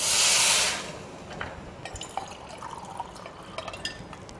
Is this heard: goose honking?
no